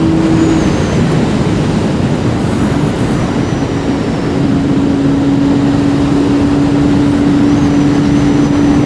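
A Yamaha RD350 R two-stroke motorcycle with YPVS is ridden on a quiet early morning road, its engine a loud, continuous buzzing drone mixed with heavy wind rush, with a steady tone through most of the ride.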